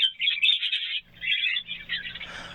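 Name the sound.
pet birds chirping in an aviary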